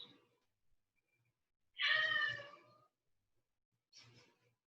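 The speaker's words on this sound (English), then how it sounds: "We have a Zoom cat here." A house cat meows indoors during a home Kundalini yoga session: one loud, drawn-out meow, then after a pause a shorter, fainter one, with near silence around them and no speech.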